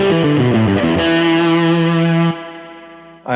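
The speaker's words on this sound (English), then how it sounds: "So I've got a cool spring reverb I can turn on." Electric guitar through a spring reverb preset on a Universal Audio Paradise guitar studio: loud, slightly distorted picked notes settling into a sustained chord that stops abruptly, leaving a reverb tail, then a brief new attack at the end.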